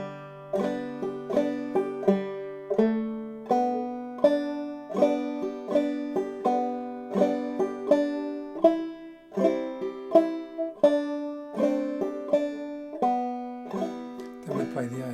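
Clawhammer-style banjo plays the B part of the tune The Blackest Crow, a steady run of bright plucked notes with a rhythmic bounce, clear and close with no talking.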